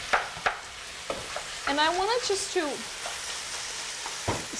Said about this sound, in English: you hear the perfect sizzle